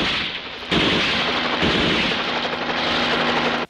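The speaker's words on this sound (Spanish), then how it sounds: "¡Los están ametrallando!" Film machine gun strafing, a loud dense continuous hail of automatic fire that keeps rattling without pause, mixed with explosive booms.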